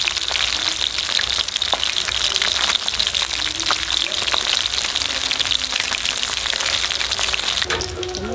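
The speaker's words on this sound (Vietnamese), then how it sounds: "Cái này thì mình sẽ chiên cho nó thật là vàng" Food frying in hot oil until golden, part of a rustic home-cooked Lunar New Year meal in southern Vietnam, gives a steady dense sizzle and crackle throughout, close and fairly loud, with scattered pops and no talk.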